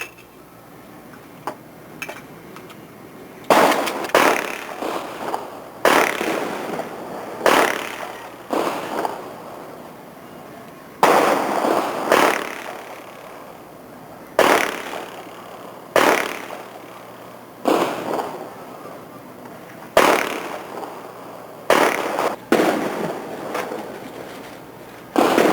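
Firecrackers go off at a birthday and dedication celebration, about a dozen sharp bangs at irregular intervals, each followed by a short rattling decay, moderately distant and with no talk.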